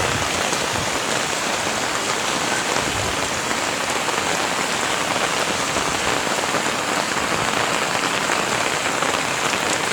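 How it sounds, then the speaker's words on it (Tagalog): Heavy rain pouring down outdoors, a loud, dense, unbroken hiss of drops pattering close by, steady throughout with no other sounds standing out. "Ang lakas ng ulan."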